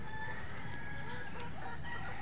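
Chickens cluck softly in the background amid faint, steady ambient noise.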